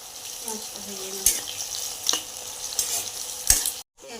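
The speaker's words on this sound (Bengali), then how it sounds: "পেঁয়াজটা ভেজে নেব।" Sliced onions, six of them, frying in a pan for chicken biryani, a soft steady sizzle with a few sharp clinks of a utensil against the pan, close and fairly quiet.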